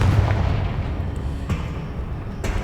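A Confringo fire spell bursts in Hogwarts Legacy, a deep booming blast over a low rumble, with a few sharper pops trailing after.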